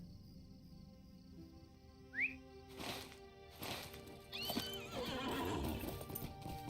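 A horse in a video game moves along with hoof clip-clops, then a clear neigh and the swelling rush of galloping, all faint and in the middle distance.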